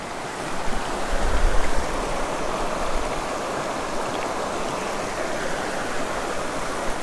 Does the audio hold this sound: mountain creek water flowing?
yes